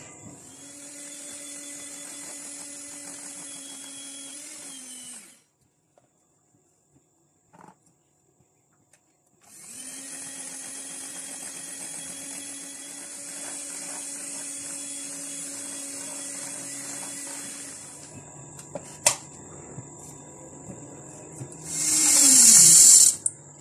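Electric hand mixer beating butter and sugar together for a date and dry fruit cake, a steady whirring motor hum in two long stretches separated by a pause, ending with a brief louder burst.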